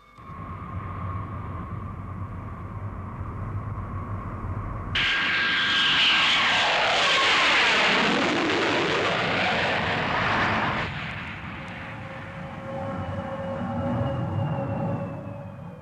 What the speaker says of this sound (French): Nous venons d'atterrir à Hong Kong.